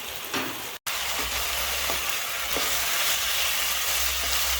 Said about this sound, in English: So I'm gonna boil my noodles for about 15 minutes.